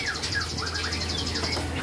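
A white-rumped shama (murai) songbird sings in a steady run of bright, varied chirps and whistles, close and clear, with no talking.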